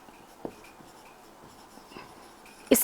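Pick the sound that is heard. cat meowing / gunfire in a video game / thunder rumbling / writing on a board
writing on a board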